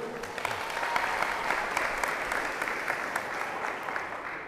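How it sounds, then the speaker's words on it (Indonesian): Students at a school anti-bullying education session in Aceh burst into lively applause, a dense steady wash of clapping from a large group held for several seconds without a break. "Beri tepuk tangan yang meriah dulu."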